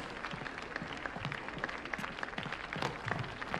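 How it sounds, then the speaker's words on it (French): An audience applauds cancan dancers at a cabaret in an animated mystery, a fairly quiet wash of clapping mixed with scattered crowd noise throughout. "je vous demande d'applaudir les délicieuses danseuses de Cancan du Canard Rouge."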